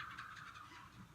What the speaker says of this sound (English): Something going on with the chickens down there.